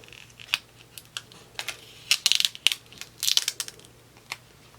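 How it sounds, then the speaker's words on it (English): Transfer tape peeled up off a Cricut vinyl work surface, giving a close, crackly run of sharp ticks and short rasping bursts, thickest in two clustered patches midway, with no talk. "now I'm just going to lift that tape up off of our work surface"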